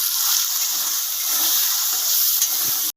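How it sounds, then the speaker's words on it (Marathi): Washed green peas roasting in hot oil left over from frying paneer: a loud, continuous sizzling hiss close by for about three seconds, with faint stirring and no voices, ending abruptly. "पनीर तळले त्याच तेलात आता हे वाटाणा भाजून घेऊया"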